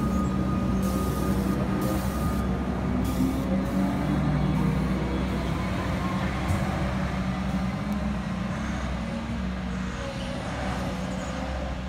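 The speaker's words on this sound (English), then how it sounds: "And now we see this six car set depart." A six-car Comeng Metro train departs Williamstown North station, a steady loud rolling rumble of wheels and motors that holds throughout and fades slightly toward the end, with no voices.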